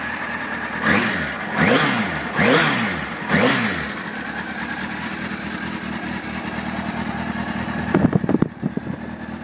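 Engine of a 2004 Kawasaki Ninja ZX6R 636 motorcycle, a low-mileage bike, revving in four sharp, rising and falling bursts close by, then settling into a steady idle with a few quick blips near the end.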